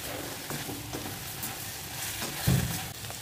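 Bitter gourd and small shrimp bhaji frying in a pan with chopped onions, a low steady sizzle broken by soft stirring scrapes and one louder clatter near the end, no voices.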